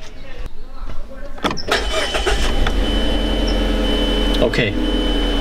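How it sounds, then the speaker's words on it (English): A Mazda 3 Skyactiv with its mass airflow sensor unplugged cranks and fires up close by, its engine then running roughly with a steady low rumble; a voice briefly speaks at the start. "Let's see if the car starts."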